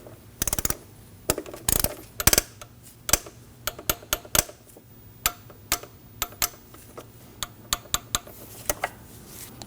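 A torque wrench ratchets while tightening the ignition coil bolts on a 2003-2006 Subaru Baja 2.5L H4 engine, giving sharp close clicks in irregular bursts over a faint steady hum.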